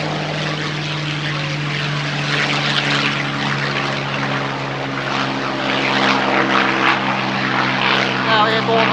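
P-51 Mustang propeller aircraft climbing out after takeoff at an air show flying display, a steady loud droning engine with strong harmonic hum and wind rush, continuous and close throughout.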